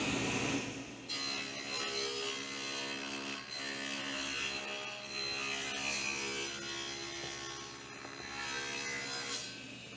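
A table saw cuts symmetrical 1/4-inch-deep, 1/8-inch-wide dados into a wooden shadowbox frame piece, a loud steady whining blade with harmonic tones holding for the full stretch and only brief dips.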